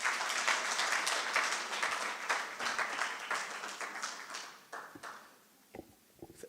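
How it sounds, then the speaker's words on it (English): An audience at an annual general meeting applauds with dense clapping that starts full and gradually thins to a few scattered claps before fading out. "Can we give Mr. Max Tibela a round of applause?"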